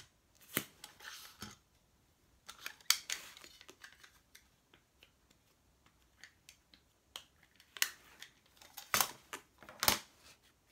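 Scissors cut ink-stamped paper for a Valentine's card craft with crisp, repeated snips in uneven bursts and brief pauses between, close and fairly soft, with no talking.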